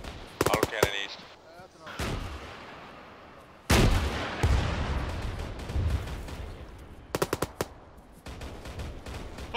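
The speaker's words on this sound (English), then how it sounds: "Auto cannon east." Auto cannon fire in a military video game hits in loud, close bursts of rapid heavy rounds, the first near the start and another around four seconds, with rumbling echo trailing off and a few sharper shots later.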